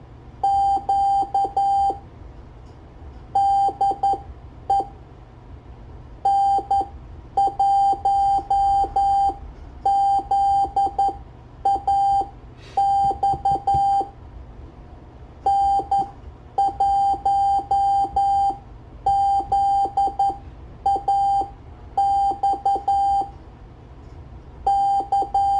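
A QRP Pixie transceiver sends a Morse code CQ call as a series of steady, high-pitched beeps grouped into dots and dashes with short pauses between characters, loud and clear over a faint background hiss.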